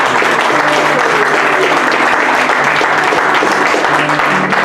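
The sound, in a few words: congregation applauding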